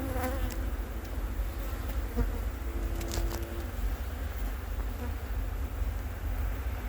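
Honey bees from a queen bank colony buzz steadily and densely at close range, with individual bees droning past the microphone over a constant hum.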